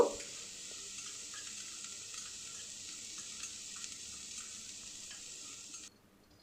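Chopped onion and carrot frying in a pan, a soft steady sizzle with faint stirring scrapes, quiet and close, ending abruptly.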